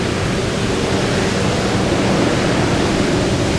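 Big surf breaking at Pe'ahi during a big-wave surf contest, a loud, continuous roar of crashing whitewater that fills the whole stretch with steady broadband rush and no voices.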